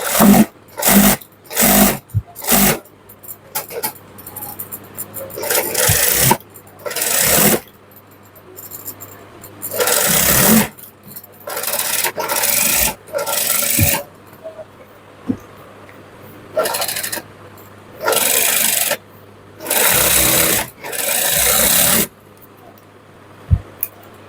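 A sewing machine runs a line of top stitching along a shirt's side seam in a series of loud, close bursts of fast whirring, separated by short pauses.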